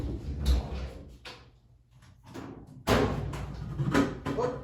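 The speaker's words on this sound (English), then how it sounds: "Oh, knocked over my potato gun." A potato gun gets knocked over and falls, giving a clattering knock, a quieter stretch of small rattles, then a second loud thud and scrape as it lands indoors.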